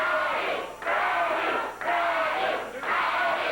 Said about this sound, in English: Crowd cheering him on as Freddie waits for Landell.